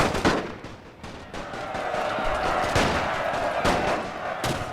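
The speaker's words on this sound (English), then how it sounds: "Now we're seeing some fire." Rifle gunfire in a The Great War mod battle with Austro-Hungarian troops: scattered, overlapping sharp shots of varying distance crackle over a continuous battle din, some close and loud.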